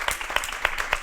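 An audience at a public event marking 600 years of Spanish Roma history claps in a short, close burst of applause, with several sharp individual claps standing out.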